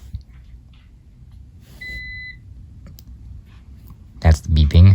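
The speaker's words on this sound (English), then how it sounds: "it was beeping every 15 minutes because we had to replace the battery" A single short electronic beep from a Verizon fiber network terminal needing a battery replacement sounds in a quiet room, followed shortly by a person starting to speak nearby.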